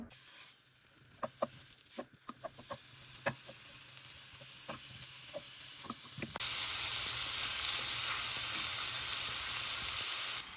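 Meat frying in oil for tostadas, a steady loud sizzle that jumps sharply in intensity partway through after several earlier sharp clicks and pops over a quieter hiss.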